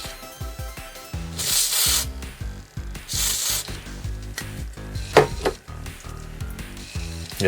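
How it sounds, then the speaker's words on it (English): Contact cleaner sprayed in bursts onto a Commodore Amiga JU-253 floppy drive, with two long hissing blasts among clicks and mechanical rattling from the drive as it seeks. "I did just absolutely drench that area with contact cleaner there."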